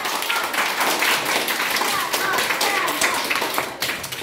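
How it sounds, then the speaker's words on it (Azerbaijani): A room of children at a geography quiz game applauds the finalists, dense continuous clapping and tapping close by, with voices mixed in beneath the claps. "alqışlayaq onları"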